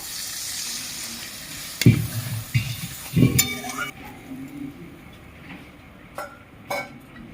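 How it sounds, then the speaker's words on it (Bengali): Spice paste sizzles loudly in hot oil for a crab curry, with a few sharp clatters of a spatula against the pan, before water goes in and the frying settles to a quieter, subdued bubbling. "মশলা থেকে তেল ছেড়ে দিয়েছে পরিমাণ মতো জল দিয়ে দেবো"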